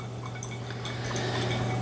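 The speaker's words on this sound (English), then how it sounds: "I went a little bit over for the third pour" Water trickles steadily from a kettle over ground El Salvador coffee in a V60 brewer, a soft, close, continuous pour with a faint hum beneath.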